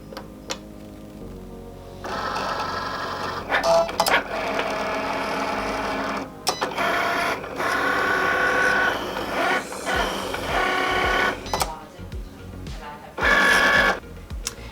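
Cricut cutting machine with a fine point blade cutting foil transfer material, a mechanical whirring and rattling that rises and falls in bursts as the carriage moves back and forth, close and without speech.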